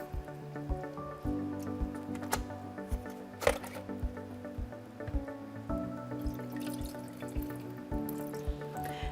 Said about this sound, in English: Simply hold it under running water and rinse it out.